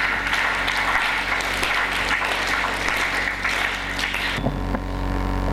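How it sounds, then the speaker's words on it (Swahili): A church congregation clapping together during a bishop's sermon, a broad, even wash of applause filling the hall before it cuts off abruptly near the end, with low hum beneath. "Mpigie Bwana makofi"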